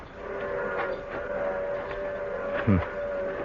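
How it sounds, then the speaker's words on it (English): A train approaches in a 1953 radio drama, a steady rumbling chug with a faint whistle-like tone running through it and a brief louder burst near the end, with no voices. "The train's coming."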